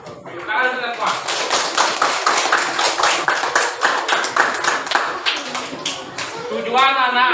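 Primary school students performing the tepuk PPK, an Indonesian rhythmic clapping chant, in a classroom: crisp, loud, patterned claps in quick sequences mixed with the children's chanted voices.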